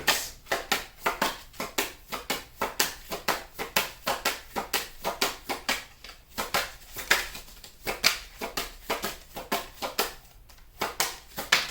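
Tarot cards being shuffled by hand, a steady run of crisp riffling snaps and slaps repeating in quick bursts for several seconds, close and fairly loud with no talking.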